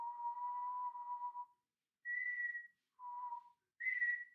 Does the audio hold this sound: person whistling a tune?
yes